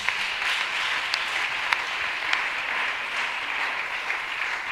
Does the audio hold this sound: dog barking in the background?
no